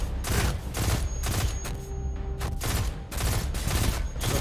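Rapid bursts of gunfire in the video game Destiny 2, loud and close, in several dense volleys separated by short gaps.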